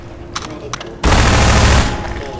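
A single loud, close shotgun blast in Half-Life 2 erupts with a long, roaring broadband burst lasting about a second, following a few faint clicks and background game noise.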